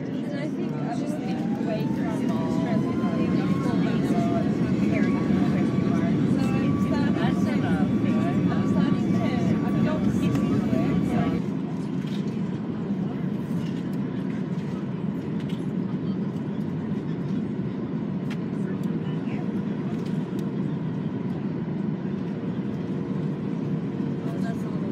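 Steady airplane cabin noise during a flight to Vancouver, a constant broadband engine and air roar with a faint rising tone early on that drops away midway while someone talks over it.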